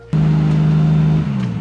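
A Lexus LS400 engine rising to a loud, steady close idle-drone as the car starts moving, holding a constant low hum before dipping slightly near the end.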